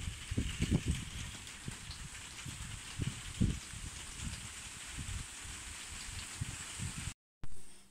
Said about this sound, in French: Et il pleut et il pleut.